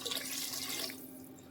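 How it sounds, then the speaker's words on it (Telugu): Water poured into masala in a cooking pot, a soft splashing stream that fades out after about a second, fairly quiet and without talk. "ఇప్పుడు ఈ మసాలాలో కూడా 6 గ్లాస్ వాటర్ యాడ్ చేయాలి."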